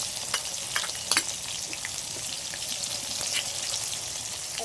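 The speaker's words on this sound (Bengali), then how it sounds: "এবার টমেটো কুচি দিয়ে দেবো তেলের উপরে।" Chopped tomato frying in hot oil for khichuri, a loud continuous crackling sizzle with a few sharp pops and clinks early on, close and with no voices.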